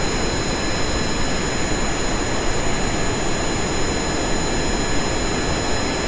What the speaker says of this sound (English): I'm just gonna all have to listen to the sounds of a jet.